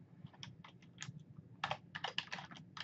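Close-up typing on a computer keyboard in a quiet room, with irregular bursts of crisp keystrokes, a sparse few taps at first and then a quick run of clicks.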